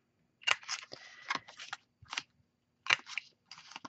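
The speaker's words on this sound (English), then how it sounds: "I'm going to round corners with my little corner rounder that is contraband" An EK Success corner rounder punch rounding paper corners for an envelope gift holder, a series of sharp, close clicks and crunches in two bursts separated by a short pause, heard alone.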